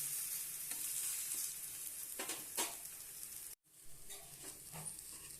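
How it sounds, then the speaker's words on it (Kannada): A wheat flour and tomato dosa sizzles and fries on a hot pan with oil, cooked on both sides. A steady close sizzle runs throughout, with a few scraping and turning clicks and a brief break partway through. "ಒಂದು ಕಡೆ ಬೆಂದೈತಿ, ಒಳಿಸಿ ಹಾಕ್ತೀನಿ ನಾ ಈಗ. 2 ಕಡೆ ಬೇಯಲಿ."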